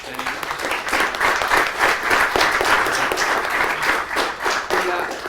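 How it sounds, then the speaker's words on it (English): An audience at a conversation event with hospital chief information officer Jennings Aske breaks into steady, moderately loud applause with a voice speaking over it. "round of applause for Jennings"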